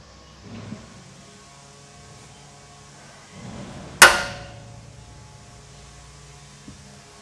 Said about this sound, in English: Might have a little left-handed hammer swing here.